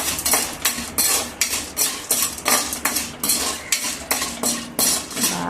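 Popcorn ingredients are mixed in a bowl with a utensil, producing loud, close, rhythmic scraping and clinking strokes that repeat roughly twice per second.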